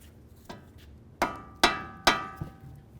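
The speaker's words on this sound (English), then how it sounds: "Let's go ahead and use a 21mm wrench so we can break this free." Metallic clanks ring out as a 21mm wrench is struck to break a tie rod jam nut loose on a 2006-2010 Ford Explorer: one soft tap, then three loud, close ringing hits with a faint trailing knock.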